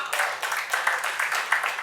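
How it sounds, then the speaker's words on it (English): Audience applause at a stand-up comedy show: a steady wash of many hands clapping, fairly close and continuous for about two seconds, with no talk over it. "Yes, clap for him."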